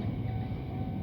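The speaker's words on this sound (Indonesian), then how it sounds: "Ini jenenge KRL komuter line sing biru iku" A blue KRL commuter line electric train rumbles past a railway level crossing, a steady close low roar of wheels and cars over a short stretch, with no talk.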